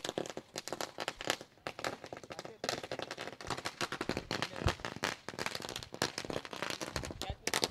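Firecrackers burst in dense, rapid strings of loud cracks and pops as guests arrive at a welcome ceremony before a match in Panvel, going on almost continuously throughout.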